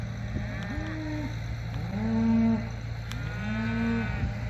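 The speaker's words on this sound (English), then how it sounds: "There's one cow out there." Cattle arriving in town low out in several drawn-out moos, some near and some farther off, over the steady low rumble of an idling tractor engine.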